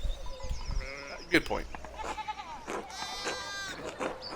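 Sheep bleating in the Pentiment video game, a few wavering bleats near and far mixed with talking voices.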